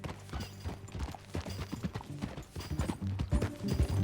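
Rapid clip-clop of horse hooves at a gallop in the video game Red Dead Redemption 2, rhythmic and fairly close, with a brief shout at the start and no other talk.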